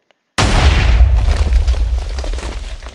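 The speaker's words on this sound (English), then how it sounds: "it's a decent sized explosion" A micro bomb explodes in the Miners Deluxe mod for Minecraft, a sudden loud boom after near silence that rumbles on heavily and slowly fades over a few seconds.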